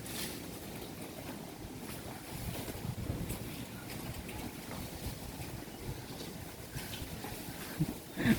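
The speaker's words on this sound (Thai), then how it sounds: "รู้สึกว่าจะมีลมหนาวๆเข้ามานะครับ" Cold wind blows outdoors near fields and water where people are fishing, a steady low rushing roar that buffets the microphone and swells now and then, with no voices heard.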